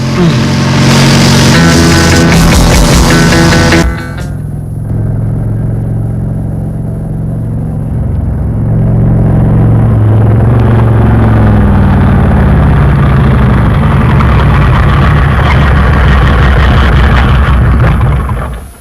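A motor vehicle engine arrives, loud and close: it idles and revs with a deep rumbling drone that changes pitch as it approaches, following a burst of loud music that cuts off abruptly.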